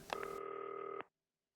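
A video game telephone rings with a single sustained electronic tone lasting about a second, loud and alone, then cuts to silence.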